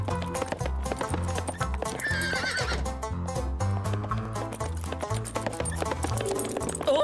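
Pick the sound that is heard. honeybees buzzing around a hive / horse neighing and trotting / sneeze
horse neighing and trotting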